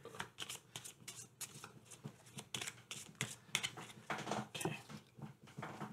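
Board game cards shuffled close by, a steady run of rapid riffling and flicking bursts lasting several seconds with no voices.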